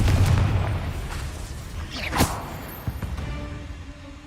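A Confringo blasting spell goes off in the Hogwarts Legacy video game, a sharp whooshing burst rising to a single loud boom midway, then a few fainter crackling impacts over a low rumbling background.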